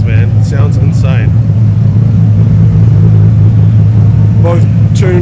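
A tuned Nissan GTR running 40 PSI boost at a track festival sits in a loud, deep, continuous engine rumble, with sharp bursts of higher-pitched noise near the start and end.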